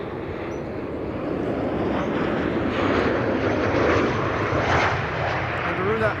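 Garuda airliner at Amsterdam Schiphol Airport, a broad jet engine roar that swells and fades slightly as it moves off, heard from a spotting position.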